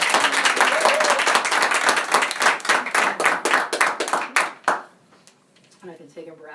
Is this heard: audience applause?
yes